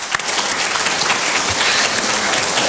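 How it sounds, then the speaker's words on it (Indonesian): Studio audience applauding on an Indonesian talk show, a loud, dense and steady burst of clapping lasting almost three seconds with no talk over it. "tepuk tangan dong. Pius Lustrilanan."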